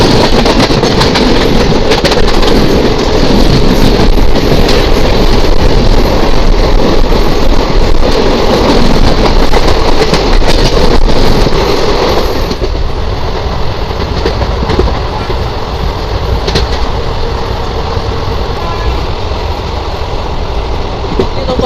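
The Jammu Tawi–Kolkata summer special train runs at speed, heard from inside a sleeper class coach: a loud, continuous rumble with rattling and clickety-clack, and the tone shifts partway through.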